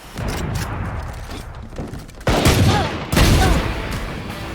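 Rapid gunfire bursts in a Valorant deathmatch, loud and close, with a dense opening burst and two sharper, louder volleys later in the stretch; no talk.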